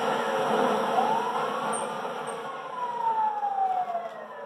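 A wailing ambulance siren from the video game GTA 5 sweeps up and then slowly falls across a steady mechanical drone, sounding fairly close and continuous, with no talking over it.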